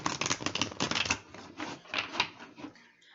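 Cards are shuffled close up in a quick burst of crisp riffling clicks for about a second, then a few softer scattered flutters and taps follow before it goes quiet.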